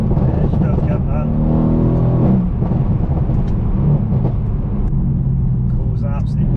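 A tuned 630bhp Mercedes C63 AMG engine accelerating on the road gives a steady, deep rumble throughout, with someone talking over it.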